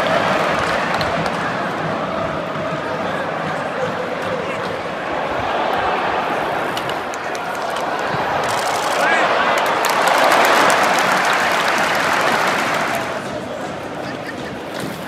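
Steady crowd noise from a football stadium during a Bournemouth match, a continuous broad roar that swells slightly while the home side attacks, heard from pitchside with no talking over it.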